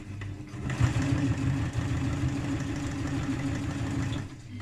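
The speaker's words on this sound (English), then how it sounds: "You have to be really careful when you're sewing the waistband here not to stretch it." A sewing machine runs steadily while stitching a skirt waistband, giving a continuous low motorized hum with a fast, even pulsing, close and fairly loud throughout.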